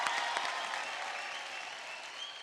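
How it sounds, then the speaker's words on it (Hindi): Audience applause for a singer named Salman, a steady wash of many hands clapping at moderate level, thinning slightly toward the end. "पहले तो सलमान के लिए बहुत ज्यादा जोर से तालियां।"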